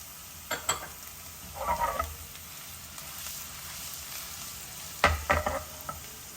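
Chopped ginger and green chilies fry in a pan with a constant low sizzle, broken by a few sharp bursts of spatula scraping and clatter as they are stirred.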